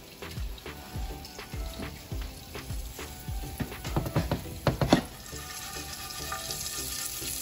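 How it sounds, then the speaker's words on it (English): Mustard seeds and curry leaves sizzle and pop in hot oil for a rava upma, with scattered crackles building to a cluster of sharper spits before settling into a softer steady fry. "we're gonna fry that up until it's golden"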